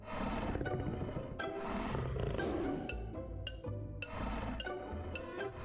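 A tiger roars loudly and repeatedly among other wild animal sounds in a dense, continuous mix of growls and snarls.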